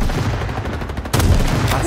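Gunfire in the Roblox Frontlines video game, a rapid string of close shots that sharpens into a louder, denser burst partway through, with no talk over it.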